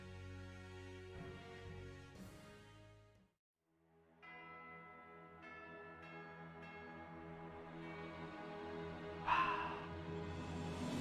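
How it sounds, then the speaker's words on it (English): A church bell tolls at the monastery of Garreg Mach in the game Fire Emblem Three Hopes. Sustained, ringing tones drift under soft game music, pause briefly, then return with a brighter strike near the end. "That fucking bell."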